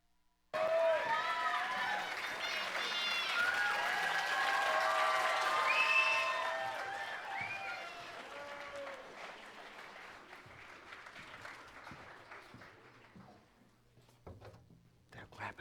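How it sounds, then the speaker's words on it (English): Applause from a community theatre audience at a Christmas show, rising suddenly and fading slowly over about fifteen seconds, with lively voices and cheering mixed into the clapping. "They're clapping for you."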